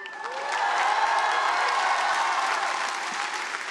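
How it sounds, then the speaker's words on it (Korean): Sustained applause from a large graduation ceremony crowd, a dense, steady wash of clapping heard from a distance with no voices over it. "가장 큰 박수가 터져 나왔습니다"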